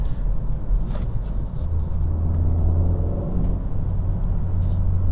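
A 2019 Hyundai Veloster Turbo with a manual transmission drives in sport mode, its engine a steady, moderate rumble with road noise that builds slightly over the few seconds.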